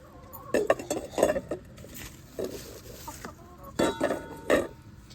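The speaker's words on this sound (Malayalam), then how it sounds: "അവളാണ് എൻ്റെ ഏറ്റവും പ്രായമുള്ള കോഴി കേട്ടോ" Backyard coop hens clucking in short bursts close by, mixed with light clinking and rattling, no talking.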